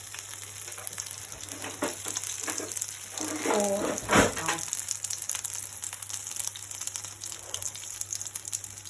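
Gluten free pea cakes sizzle steadily in a frying pan, a continuous close hiss and crackle, with a brief spoken phrase partway through.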